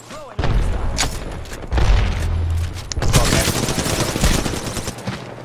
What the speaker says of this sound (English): I've got arc stars, so I'll chuck a couple.